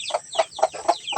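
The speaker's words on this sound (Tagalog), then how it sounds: "May alaga silang mga manok dito." Native chickens cluck nearby in a quick series of about five short, throaty notes.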